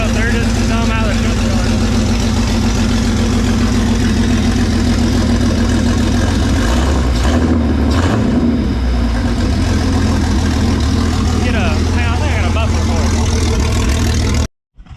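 A Jeep 4.0 inline-six engine idles through a newly fitted custom muffler, a loud, steady, close rumble throughout, with a slight rev near the middle before it cuts off at the end.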